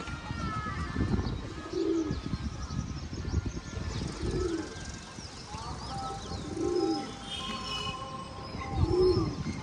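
Domestic pigeons in a home loft give deep, repeated coos, about four evenly spaced calls, with lighter chirps from other birds around them.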